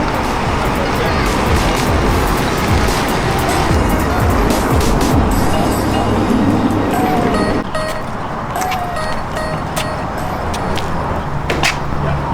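A 1972 Karmann Ghia engine fitted with an aftermarket exhaust runs steadily with a dense, rumbling drone that holds for about twelve seconds and eases slightly near the end.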